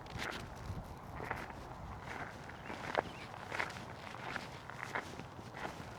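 Footsteps walk over a grassy dirt path near a small stream in a rural village, a steady run of soft crunching steps, fairly close and unhurried, with no talk.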